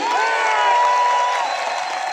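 A crowd shouts together on cue in one loud, sustained cry that holds steady for about two seconds, then tails off slightly.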